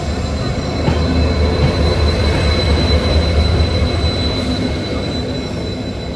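A train at a railway station, a loud continuous rumble with rolling wheel noise and faint high metallic tones, steady throughout with no clear speech.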